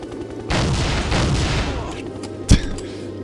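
Gunfire in the shooter game Soldier of Fortune: a dense burst of rapid shots for about two seconds, then one sharp, loud pistol crack, with faint game ambience around it.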